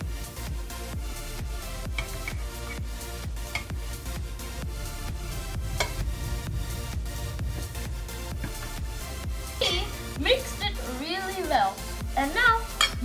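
Eggless brownie batter mixed with oil makes a steady, rhythmic scraping and sloshing near at hand, with a voice speaking briefly toward the end.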